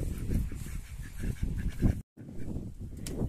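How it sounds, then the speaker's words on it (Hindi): Ducks quack at a hill farm in the mountains, their calls mixed with other farm animals, loud and continuous with a brief gap partway through. "और ये देखिए हमारे बत्तख, ये भी अभी अंदर नहीं गए।"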